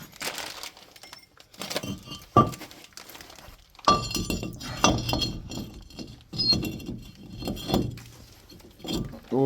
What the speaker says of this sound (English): we're going to throw on our rotor